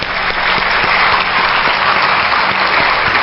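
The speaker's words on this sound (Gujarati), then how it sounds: "એમના માટે એક જોરદાર તાળીઓ પાડી દો" A live audience at a Gujarati spiritual talk breaks into loud, dense applause that stays full and steady from start to finish, with no voices over it.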